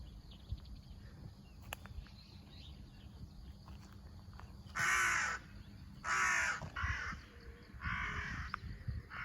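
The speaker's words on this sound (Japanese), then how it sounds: "おはよう、カラス。" A crow caws several times in loud, harsh calls spaced a second or two apart, standing out over steady outdoor background noise.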